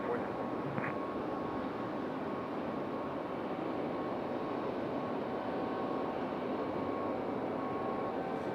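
Delta Airbus A319 airliner arriving from Detroit at Raleigh-Durham airport, a steady distant jet engine roar that holds evenly throughout with no talking.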